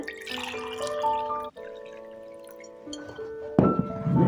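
Water poured into a glass of chia seed drink with lemon juice, a steady close trickle with rising tone as it fills, brief pause midway, then a louder splashing burst near the end.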